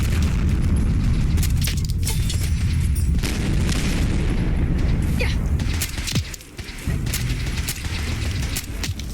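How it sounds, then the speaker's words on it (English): Missile launcher blasts in the video game Fallout 4: heavy booming explosions and rumbling impacts pile up in a dense, loud barrage, with a brief lull near the end before the rumble resumes. "we got a guy with a missile launcher"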